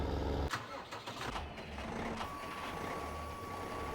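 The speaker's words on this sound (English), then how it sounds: "this tractor is nice and quick in that 38 mile an hour" A tractor engine drives steadily at speed in Farming Simulator 15, a continuous mechanical drone with a few sharp knocks early on and a thin steady tone joining partway through.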